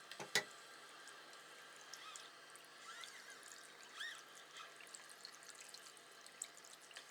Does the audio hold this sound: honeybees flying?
no